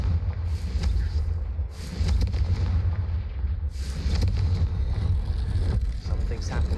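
Confringo fire-spell blasts in the Hogwarts Legacy video game, a series of booming explosive bursts over a deep rumbling ambience, spaced a second or two apart and fairly loud.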